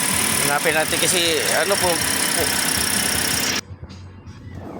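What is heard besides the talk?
Toyota Vios engine idling with erratic RPM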